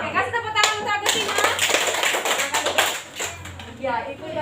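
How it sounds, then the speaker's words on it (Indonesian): A sixth-grade primary school class claps for a classmate, with quick, lively clapping from many children close by that fades out, and a voice speaking over it at the start and end. "Oke, kasih tepuk tangan untuk Agustina."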